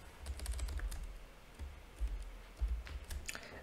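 A file name typed on a computer keyboard, heard as quick bursts of soft, close key clicks with short pauses between them in a quiet room.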